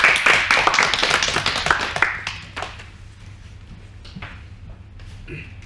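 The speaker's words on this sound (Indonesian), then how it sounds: "tepuk tangan untuk kalian semua" A school class applauds together during a microteaching maths lesson, with quick, fairly close claps that are strongest at first, then thin out into a few scattered claps over a low room hum.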